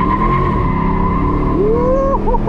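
A car accelerates hard with both windows lowered, its engine note loud and close and rising in pitch through the gears, with a steady roar of road and wind noise underneath.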